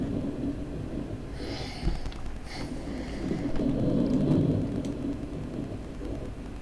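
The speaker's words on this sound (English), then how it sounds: "Heavens, that storm certainly appeared quickly. It looks like a bad one, too." A sudden bad thunderstorm in the adventure game Inherit the Earth: Quest for the Orb, with steady rain hissing throughout and rumbling thunder swelling and fading in the background, no voices.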